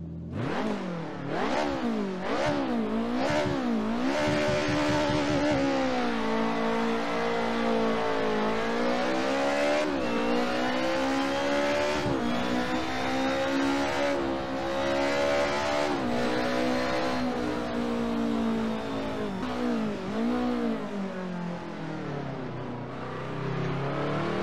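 Car engine in the Assetto Corsa racing sim, revving up and shifting through gears repeatedly, rising and falling in pitch in a steady loud drone close up, with no talking.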